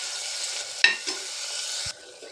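Onion pieces frying in a pan, a steady close sizzle with a sharp clink and scrape of a spoon stirring, then a thump as the sizzle drops away, with no speech.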